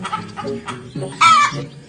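A chicken clucks in short, close bursts, ending in a louder squawk near the end.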